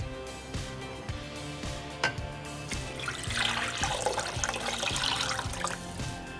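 Soured kanji water, fermented for three to four days, poured into a bowl while making Rajasthani kanji vada, a steady close splashing trickle under a faint rhythmic musical beat.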